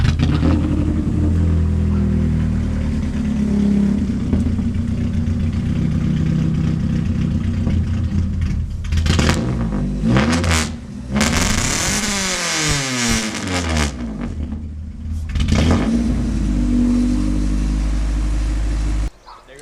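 A Honda Civic EF hatchback with a swapped H22 VTEC engine, damaged in one cylinder, idles roughly and then revs hard in repeated loud bursts up close before cutting off abruptly.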